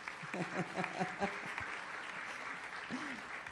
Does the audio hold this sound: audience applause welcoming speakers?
yes